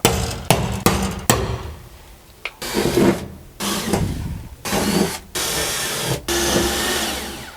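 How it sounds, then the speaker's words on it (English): Holes are punched and drilled in a carbon fiber battery box for a BMW E36, with a few sharp punch strikes followed by several bursts of whirring drilling separated by short pauses, all close up. "Now we can punch and drill these ones."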